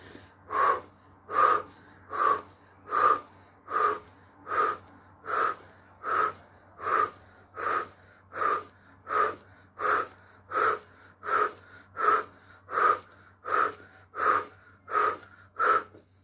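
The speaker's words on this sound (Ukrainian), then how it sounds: "І при цьому робити глибокий видих." Deep exhalations in a breathing exercise for children, about twenty strong, evenly spaced breaths pushed out roughly every 0.8 seconds, close and loud against a faint steady hum, with no talk.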